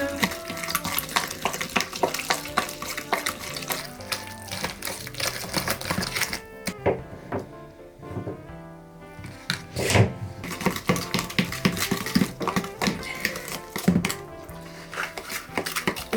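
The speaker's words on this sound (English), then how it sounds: "we're mixing this together now" Crumbl-style cookie batter with vanilla being mixed in a bowl, steady scraping and stirring strokes with clinks against the bowl, continuous and close, fairly loud.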